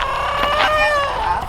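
A rooster crows loudly and close by on a homestead, one long drawn-out cock-a-doodle-doo call with no talking over it.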